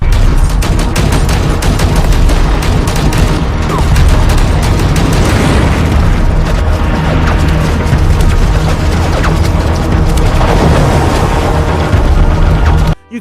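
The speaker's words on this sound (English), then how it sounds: "The machine guns rattle like they mean it, bombs thud with a satisfying kafoom" The P-47 arcade shoot-'em-up bursts with nonstop rattling machine-gun fire and dull booming bomb explosions, a dense, loud, chaotic barrage that runs continuously before cutting off abruptly at the end.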